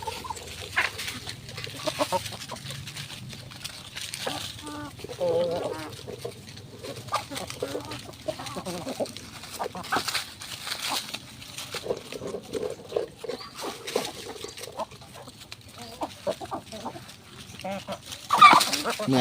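Chickens clucking on a chicken farm, intermittent close clucks and scratchy bird calls scattered throughout, with someone talking over them at times and a louder burst near the end.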